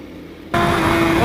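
A motorcycle ride begins in the summer heat of Dubai, the engine bursting in suddenly and loudly after a quiet moment, then holding a steady close roar.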